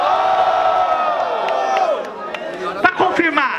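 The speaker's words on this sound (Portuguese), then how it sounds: "Barulhos, barulhos pra quem gostou das rimas da Todd." Crowd at a student rap battle semi-final in Guarulhos, São Paulo, cheering, whooping and shouting together to vote for a rapper, with a steady loud roar of voices that breaks into scattered individual yells near the end.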